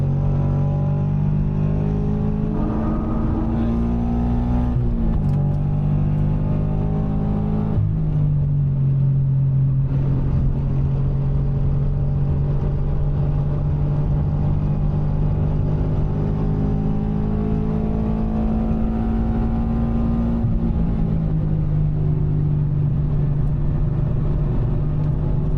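Subaru BRZ track car engine driving a Formula 1 racetrack during racing school, loud and close throughout, rising and falling steadily with throttle as revs climb and settle through corners.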